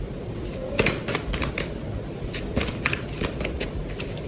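Tarot cards are shuffled by hand for a card draw, giving a steady run of soft riffling snaps and flicks close up over a constant background hiss.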